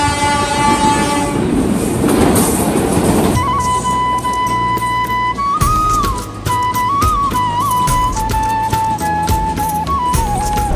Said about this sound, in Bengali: এখন ট্রেন যাবে ট্রেন মালবাহী ট্রেন না যাত্রীবাহী ট্রেন যাত্রীবাহী হইতে পারে